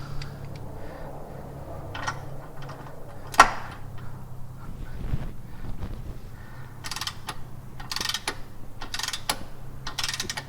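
A torque wrench ratchets on rear differential brace bolts of an INFINITI Q50/Q60, set to 25, in a home garage; a few close, brief clicking and ratcheting bursts come through against a low steady background hum.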